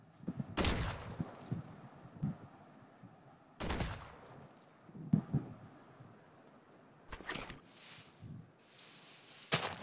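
Bursts of gunfire in a blocky Minecraft gun fight, arriving in several separated volleys of rapid shots against a quiet background, fairly close and sharp.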